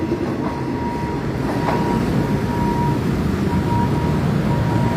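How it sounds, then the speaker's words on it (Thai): A diesel passenger train, service 277 hauled by an MTU-engined locomotive, rumbles past a level crossing on Romklao Road, with a steady, loud roll of wheels and engine drone and a faint squeal near the start. "กับขบวนรถธรรมดาขบวนที่ 277 นะครับ 277ต้นทางจากกรุงเทพหัวโพงปลายทางไปกบินบุรีครับจังหวัดปราจีนบุรี"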